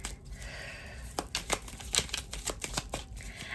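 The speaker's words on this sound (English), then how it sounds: "let me give this card pile a quick little shuffle" A pile of game cards gets a quick shuffle, a run of crisp riffling snaps and papery flutters in uneven bursts, close and fairly quiet with no talking.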